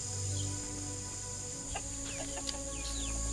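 Chickens on a small farm cluck in short, faint calls scattered over a continuous steady background hum, with no talking.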